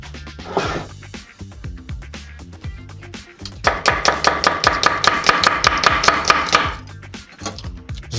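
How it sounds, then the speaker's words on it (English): A knife slicing apples on a cutting board for an Italian apple cake with grappa: crisp rhythmic chopping strokes, scattered at first, then a fast steady run of close taps before slowing again. "Slice a bunch of apples."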